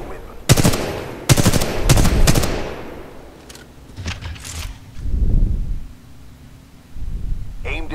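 A weapon fires at the shooting range in Titanfall 2, several loud close bursts of rapid shots followed by quieter single reports and echoing tails.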